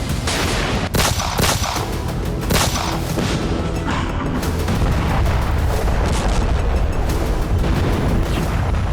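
Russian FAB-3000 bomb strike in Sumy, Ukraine, destroying a weapons hangar: a loud, sustained, dense wall of rumbling blast and crackling roar with repeated sharp booms throughout, no voices.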